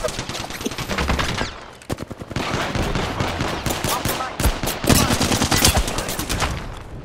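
Rapid automatic gunfire from a video game rattles in dense, continuous bursts, loud and close, with brief pauses between volleys.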